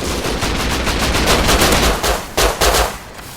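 Automatic gunfire in the survival video game Rust, with dense rapid bursts of shots rattling loudly and continuously, then a couple of heavier cracks near the end, and no talking over it.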